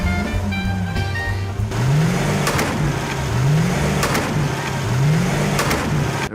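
A Lamborghini Aventador engine revs in loud, steady swells, with a few rising pitch sweeps and sharp bursts over a constant mechanical drone.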